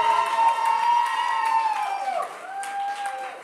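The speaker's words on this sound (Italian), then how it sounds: "Ragazzi, facciamo un altro bello applauso." A crowd at the Vicenza Rock Contest 2015 semifinals cheers with loud sustained whoops and shouting, with clapping mixed into the steady roar of the audience.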